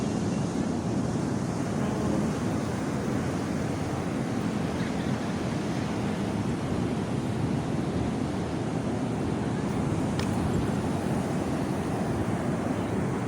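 Sea waves wash onto a beach under an orange sky, a continuous low roar of surf with wind buffeting the microphone, steady and fairly loud throughout.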